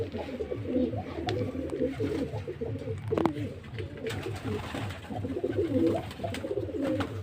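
Pigeons at feed coo in overlapping low, throaty phrases, near and fairly loud, with a few soft knocks and shuffles among the birds.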